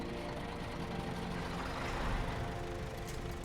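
A truck engine in the SnowRunner video game runs as a continuous low, rough rumble that swells slightly midway, loud and steady with no talking.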